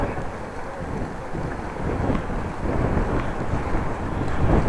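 Wind rushing past a cyclist riding through Groningen, a dense continuous roar and low buffeting that grows slightly louder toward the end.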